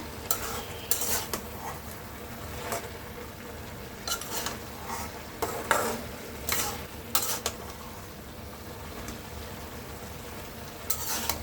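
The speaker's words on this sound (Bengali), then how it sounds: "এখন আমি এটাকে নাড়াবো। একদম ভাজি ভাজি করবো।" Leafy greens stirred and fried in a pan, with intermittent scraping and clattering strokes of a utensil over a steady low sizzle, close and fairly quiet, no voices.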